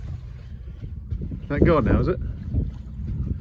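Wind buffets a small boat at sea on a cold, misty spring day off the Suffolk coast while fishing, a steady low rumble of gusts against the microphone with people talking over it.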